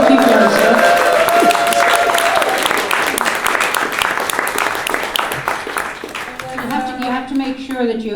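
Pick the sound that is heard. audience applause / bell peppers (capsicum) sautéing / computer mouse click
audience applause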